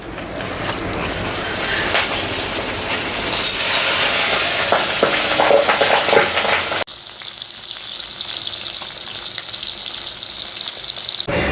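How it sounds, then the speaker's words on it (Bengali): Oil poured into a hot kadai while cooking doi sorshe pabda fish: a loud, continuous hiss and sizzle that swells, then drops abruptly to a softer steady frying crackle. "এবার পরিমাণ মতো তেল দিয়ে দেবো"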